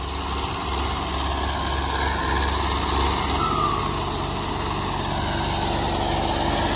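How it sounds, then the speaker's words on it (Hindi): A turbocharged engine on a modified Mahindra 575 tractor runs steadily at a close, continuous drone, with a low rumble that shifts partway through and a faint whistle above it. "अगर तुम्हें टर्बो की आवाज देखो"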